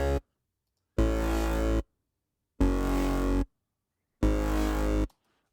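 A simple two-oscillator synth bass patch built in Serum for a track plays three long, even sustained notes, each about a second, separated by silence, full and buzzy with no talking.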